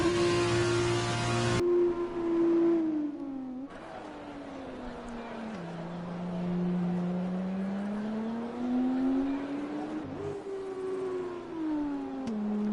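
Racing cars on wet tyres in a racing video game whine past, engines rising and falling in pitch through gear changes over several seconds, steady and fairly loud with a commentator talking over them.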